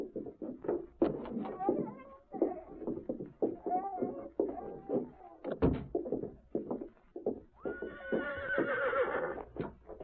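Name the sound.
horse neighing and hooves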